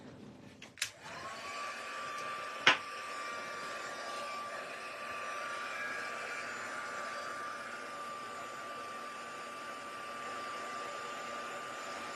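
A heat tool blows steadily over a die-cut designer-series paper project, giving a soft, even whooshing hum after a couple of sharp clicks, fairly faint and alone without talk.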